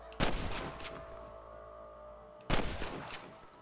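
Two sharp, loud gunshots about two seconds apart ring out in Red Dead Redemption, each with a short echoing tail over quiet ambience.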